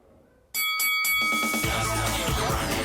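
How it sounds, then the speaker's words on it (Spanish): After a quiet start, a boxing ring bell rings in three quick, bright strikes, followed by a burst of loud crowd or background noise. "Suena la campana y llega a su fin el descanso para esta púgil de las 140 libras."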